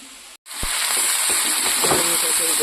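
Spices frying and sizzling in a hot pan, a steady loud hiss starting after a brief gap and continuing to the end, with a few scrapes of stirring.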